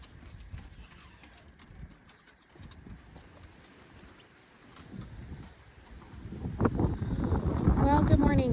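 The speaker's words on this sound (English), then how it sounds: "It is awfully windy out here today" Strong wind buffets outdoors around a garden, gusting unevenly and then swelling into a louder, rumbling roar, with talking faint in the background.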